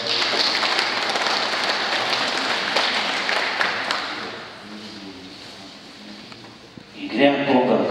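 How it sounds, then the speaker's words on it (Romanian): Audience applause at a children's Christmas skit, a dense patter of clapping that fills the first few seconds, then thins and fades before a voice and a small burst of noise return at the end. "Să aplaudăm."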